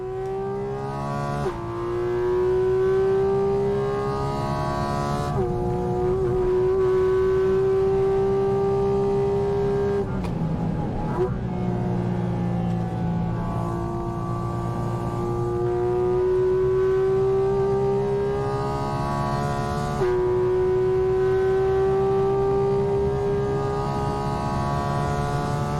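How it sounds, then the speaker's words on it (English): A Porsche with a PDK gearbox runs hard on the Nürburgring, its engine note climbing steadily then dropping with quick gear shifts, loud and continuous from on board with no talk. "we're gonna take you on board for a quick little Nürburgring seat time"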